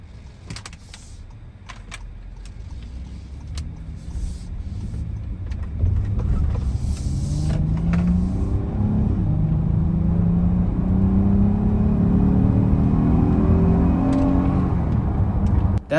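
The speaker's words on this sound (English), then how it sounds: "That V6 really sounds good." A 2023 Honda Odyssey Elite minivan's V6 engine accelerates hard from inside the cabin, its drone rising steadily in pitch and loudness over several seconds, with faint interior clicks and rattles early on.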